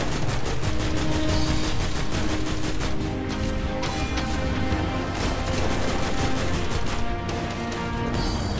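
Dense, continuous gunfire against Crota during a hard raid in Destiny, with overlapping shots and blasts forming a loud, unbroken wall of combat noise.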